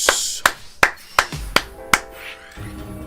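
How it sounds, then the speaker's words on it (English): A round of applause heard as about six sharp, separate claps spaced evenly, loud and close, then fading out with no voices. "round of applause for Fire Zeus"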